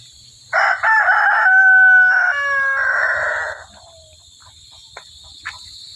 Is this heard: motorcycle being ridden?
no